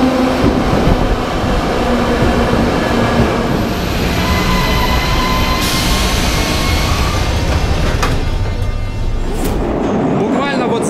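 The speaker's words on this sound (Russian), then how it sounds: "Буквально вот за этой решеткой проезжают поезда метрополитена" Kyiv metro trains rumble loudly and continuously through a tunnel behind a grate, heard from inside an abandoned side tunnel with a roaring, booming rush and high squeals toward the end.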